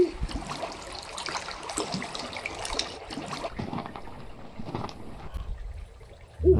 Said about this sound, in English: Wander along the stream.